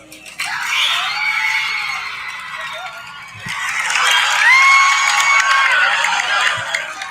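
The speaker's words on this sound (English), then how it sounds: "People screaming, standing up, cheering, stomping up and down, like every time something happened in the movie." A movie theater audience erupts in loud screaming, whooping and cheering, a dense crowd roar that swells in a second wave with piercing shrieks riding on top.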